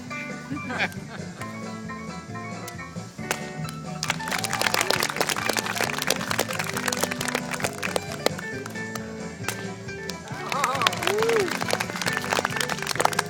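A crowd claps for a family whip-cracking show at the Illinois State Fair, with applause swelling over music and an announcer's talk throughout.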